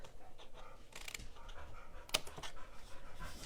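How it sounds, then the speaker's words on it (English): An old dog huffs and pants close by in steady rhythmic breaths, with one brief sharper sound partway through. "I don't know if you can hear my huffing and puffing old dog"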